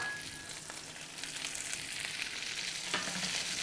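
Garlic and a couple pounds of green beans sizzle in a hot pan with a steady, even frying hiss, close and moderately loud, with a faint stir partway through and no talking.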